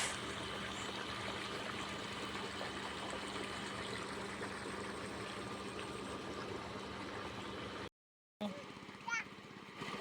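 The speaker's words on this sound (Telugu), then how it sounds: "మోటార్ వేసాము, అందుకే ఆ సౌండ్." A water pump motor runs in a farm field, a steady droning hum with water flowing, while children's voices chatter over it; a short cut near the end before the hum returns.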